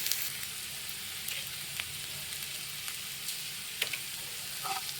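Chopped tomato and salt sautéing in a pan for chammanthi make a soft, continuous sizzle, with a few faint spoon clicks here and there, no voices.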